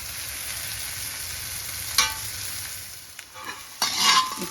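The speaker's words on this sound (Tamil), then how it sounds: "இப்போ நம்ம இஞ்சி பூண்டு விழுதை சேர்த்துக்கிறோம்." Onions frying with ginger garlic paste in a pan, quiet sizzling with a few stirring scrapes and clinks of a spoon, no voices.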